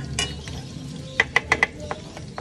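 Garlic frying in a pan for chicken afritada, a soft steady sizzle under a few sharp scraping and tapping clicks of a utensil against the pan.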